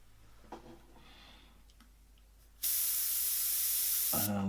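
An airbrush sprays a fine mist of paint during portrait work, with a loud, steady hiss that starts abruptly and runs for nearly two seconds before briefly cutting off and starting again.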